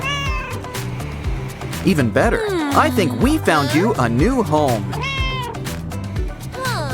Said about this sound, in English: did someone order a cat in a basket?